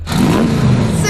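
Car accelerating hard toward 60 mph, a loud close engine drone rising in pitch over about a second inside the cabin.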